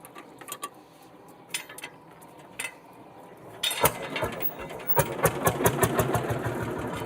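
An old tractor assembled from a kit, its small engine cranked with a few sputtering attempts before catching and settling into a fast, even putter like a big moped, close by and without talk.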